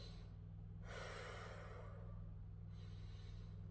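A person doing seated respiratory rehabilitation exercises breathes in sharply through the nose, one audible sniffing inhale over a steady low hum, followed by a quieter second breath.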